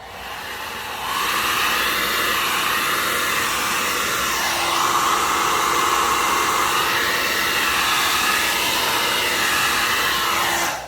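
A hair dryer switches on and blows steadily with a loud, whooshing whine, its pitch wavering slightly as it moves, then cuts off at the end.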